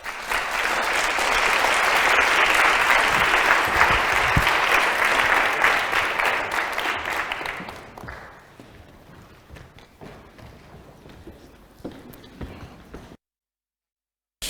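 A conference audience at a plastic pollution event applauds its panellists, with steady, dense clapping for about eight seconds before it thins out to scattered claps and a few late taps.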